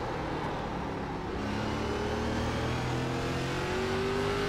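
ARCA race car engine in iRacing at Martinsville, a steady loud droning whine held high with a slowly rising pitch, sounding like it is bouncing off the rev limiter, with no talk.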